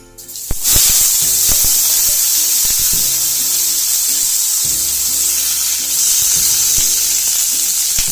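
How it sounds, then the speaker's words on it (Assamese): Jackfruit pieces drop into hot oil with a sudden burst, then settle into a loud, continuous sizzle with occasional stirring scrapes. "তেলটো গৰম হৈ গৈছে এতিয়া আমি কঁঠালখিনি দি ল'ম ইয়াতে"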